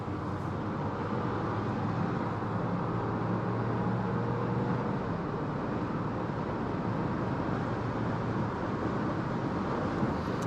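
Mercedes GLC 300e plug-in hybrid accelerating at full throttle on a rainy Autobahn, a steady broadband roar of engine, tyres on wet road and wind noise holding loud and constant throughout.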